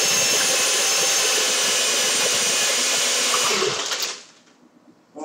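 A blender mixing a coffee frappe whirs loudly and steadily for about four seconds, then winds down and stops, leaving near silence before a short noise at the end.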